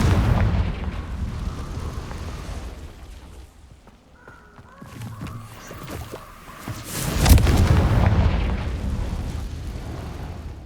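Confringo fire-blast spell exploding in Hogwarts Legacy, a rumbling blast that dips then swells into a loud booming burst near the end, with a low roaring tail.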